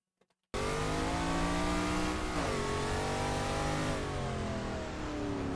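A DeTomaso Pantera race car in GT Legends at Spa-Francorchamps roars in after a brief silence, its loud engine revving steadily through the gears, with pitch sweeping down on each shift and climbing again.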